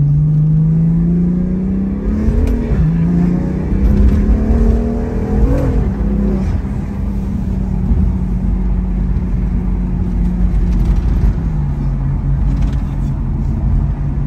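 A 1000-horsepower car accelerates and revs close by, its engine note climbing in strong sweeps, dipping between gear changes, then holding a steady loud drone throughout.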